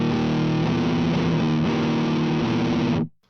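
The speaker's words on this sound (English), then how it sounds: "Now we're going to bring in the low-pass filter, so we're going to filter out the high-end frequencies of this signal." A guitar runs through an HM-2 chainsaw-style distortion pedal and a low-pass filter, giving a thick, buzzing, sustained chord tone that holds steadily for about three seconds and then cuts off.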